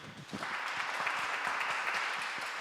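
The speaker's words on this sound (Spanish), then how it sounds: "Fuerte aplauso" Fairly quiet but steady applause from the audience closes a Latin American and Caribbean parliamentary diplomacy forum, many hands clapping evenly throughout with no talking.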